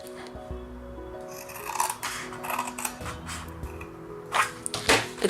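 Scissors cut paper for a craft explosion box in several short snips and crisp slicing strokes close by, with rustling paper handling between cuts and no talking.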